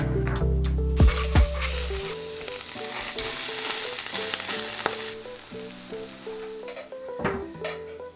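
Tofu sizzles and crackles in a hot pan, with a few clanks and scraping stirs over the steady frying hiss.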